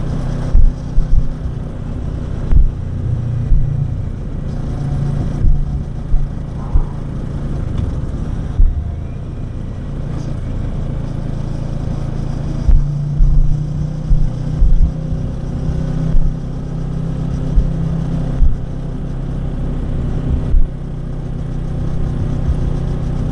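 Steady engine drone from a moving motorcycle with a low exhaust rumble, wind rushing past and periodic brief thumps from the road.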